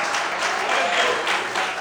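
A church congregation claps during a Sunday morning sermon, a brief burst of steady, even applause from a gathered crowd.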